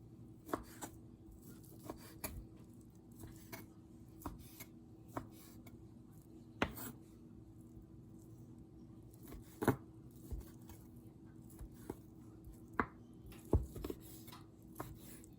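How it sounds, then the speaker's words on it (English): Sharp knife chops through chicken breasts strike a cutting board at an irregular pace over a low steady hum, fairly quiet, with no talking. "I'm just about finished chopping these 2 large chicken breasts"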